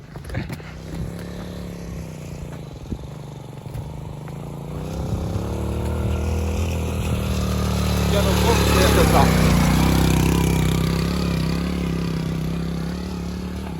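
A motorcycle engine idles roughly, then revs up into a louder, sustained roar that builds and slowly eases off, with voices talking over it in the first part.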